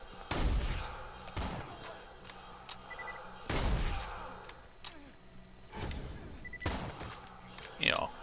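Gunfire from the video game Borderlands 2: several sharp, booming shots spaced about a second or two apart, each with a decaying tail, over quieter game ambience.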